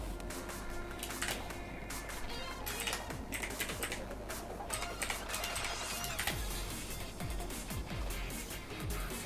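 Steady, rapid clatter of keys as a password is typed on a computer keyboard, close and continuous for several seconds, with a faint background hum.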